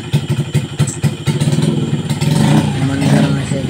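A motorcycle, converted from foot clutch to hand clutch, starts with loud, close chugging pulses, then settles into a steady running note with a slight rev, while a voice talks faintly underneath.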